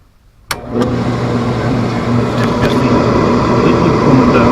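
An oil-burning furnace burner fires up with a sudden onset, then settles into a steady, loud roar with a low hum. It keeps running evenly with no talk.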